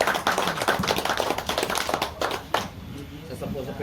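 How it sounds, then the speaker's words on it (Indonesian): Audience applause for a retiring elder at a farewell gathering of cycling and Vespa enthusiasts, dense clapping from a crowd mixed with chatter and voices talking over it, tapering slightly toward the end. "Tepuk tangan untuk Pak PW Tarno."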